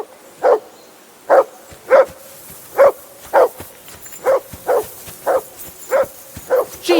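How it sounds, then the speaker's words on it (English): Repeated dog barking in Kingdom Come Deliverance II, a dozen sharp barks in a steady rhythm at a riverbank camp, fairly close and loud against quiet background. "Jesus, Henry, that barking's driving me nuts!"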